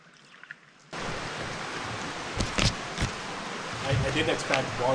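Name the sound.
waterfall and stream in a gorge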